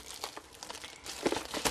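Plastic film wrapping crinkles and tears as it comes off a Stampin' Up! Paper Pumpkin craft kit box, producing brief close crackling bursts that come and go irregularly.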